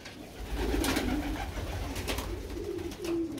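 Pigeons coo in a loft, with a homing pigeon among them; low, throaty rolling coos repeat close by over steady background noise, with a few soft rustles.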